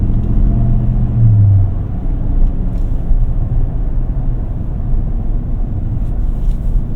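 Deep, steady engine rumble from a Ram TRX pickup truck heard from the cabin while accelerating, loud and continuous throughout with no talk.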